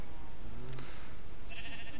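A sheep in the Minecraft video game gives a short bleat partway through, heard over a steady hiss of background noise.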